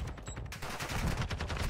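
Rapid automatic gunfire from Call of Duty: Modern Warfare II ranked play, a dense burst of rattling shots firing in a quick steady rhythm, loud and close, continuing for the whole moment without talk.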